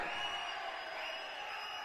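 Distant audience at a film crew event in Madurai, a steady wash of crowd noise with cheering and whistling, faint and continuous, no clear individual claps standing out.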